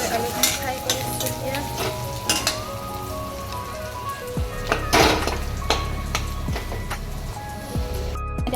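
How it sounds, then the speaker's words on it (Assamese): Potatoes fry in a pan, a soft steady sizzle broken by repeated scraping stirs, heard close with background hum. "ধুনীয়াকৈ আলুখিনি ফ্ৰাই কৰি দিছোঁ।"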